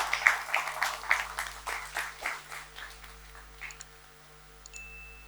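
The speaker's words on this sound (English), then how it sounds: "How do we appreciate it? With a huge round of applause and welcome them." Audience applause at a film trailer launch event, a short series of clapping bursts that fade gradually, with a faint tone near the end.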